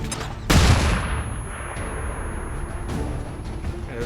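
A flashbang grenade goes off in XCOM 2 combat, a sudden loud burst followed by a rumbling, ringing decay that lingers for several seconds with faint scattered crackles.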